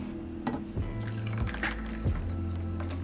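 Matcha poured into an iced latte, a soft liquid trickle and splash with a few small drips, close by and fairly quiet, with no talking.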